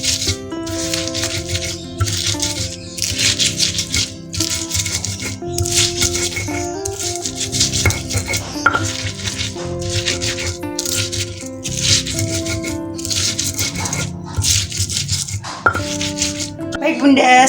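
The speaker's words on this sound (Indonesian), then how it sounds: "kita masukin teri yang sudah digoreng tadi. Kita ulek ya Bunda" Fried anchovies are ground in a mortar for sambal, making rhythmic, repeated gritty scraping and rattling strokes close up while someone talks over them.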